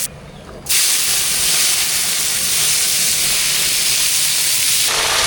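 Cut potatoes drop into hot oil tempered with mustard seeds and curry leaves, setting off a loud, steady sizzling hiss that starts abruptly after a quiet moment and continues unbroken.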